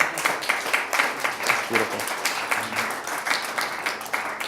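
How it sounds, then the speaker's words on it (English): Audience applause at a live late-night comedy talk show in Portland, a steady wash of clapping with a voice speaking briefly over it. "You guys can clap on that one."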